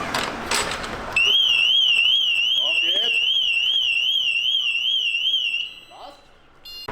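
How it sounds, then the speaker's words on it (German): Motorcycle alarm system going off, a loud warbling electronic siren that rises and falls for about four seconds and then cuts out, preceded by rustling and handling noise. "Theoretisch müsste sie schon anspringen, die Alarmanlage."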